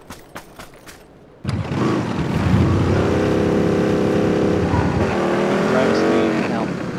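A motorbike in PUBG starts up after a few clicks and roars steadily at close range, engine pitch rising as it accelerates, with voices chatting over it.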